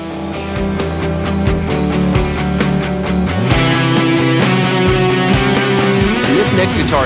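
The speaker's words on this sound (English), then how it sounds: "Here's Curtis playing one of the first guitar parts on this song through the 335 and the Dr. Z Z-Rec profile" Clean electric guitar from a 335 through a Kemper Dr. Z Z-Rec amp profile, playing a melodic part with chords and single notes, washed in delay and reverb, steady and fairly loud with no voices.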